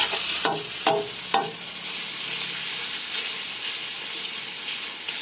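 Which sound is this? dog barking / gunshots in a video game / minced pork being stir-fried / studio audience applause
minced pork being stir-fried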